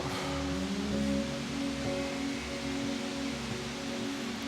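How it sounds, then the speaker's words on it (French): Steady broadband rush of a waterfall close by at night, a continuous loud wash with no gaps and no voices over it. "La cascade qui est juste derrière."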